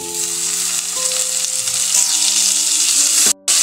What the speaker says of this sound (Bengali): এখন এর ভেতরে দিয়ে দেব টমেটো কুচি।